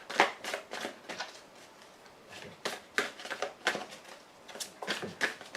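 Tarot cards being drawn and handled during a reading: a series of brisk papery slaps and swishes, close and fairly loud, coming in uneven bursts with short pauses between.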